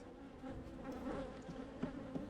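Honeybees buzz over brood frames during a hive inspection, a close, continuous droning hum.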